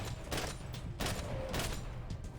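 Gunfire in the video game Max Payne 3 during a shootout on a party boat: several bursts of shots, dense and fairly steady across the whole stretch, with no voices.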